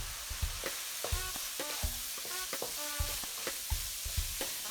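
Seasoned empanada filling with paprika, ground pepper and salt is stirred in a pan, a rhythmic series of close spoon clinks and scrapes over a soft frying sizzle, repeated roughly every half second.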